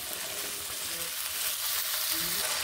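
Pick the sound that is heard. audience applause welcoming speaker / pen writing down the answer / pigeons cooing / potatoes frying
potatoes frying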